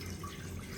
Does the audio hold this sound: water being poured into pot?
yes